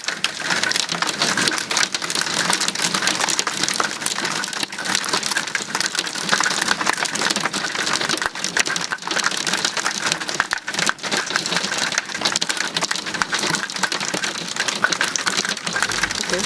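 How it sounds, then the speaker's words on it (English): Heavy downpour with hail during a thunderstorm over a hot pepper garden in June, a dense, steady roar of rain and pelting hailstones hammering surfaces continuously and loudly throughout, with no talking. "Now we're having a downpour with lightning and thunder and hail."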